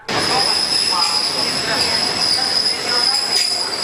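A Fastiv–Konotop interregional passenger train rolling on its rails, carrying hundreds of passengers, with a steady loud rumble and a persistent high wheel squeal running throughout.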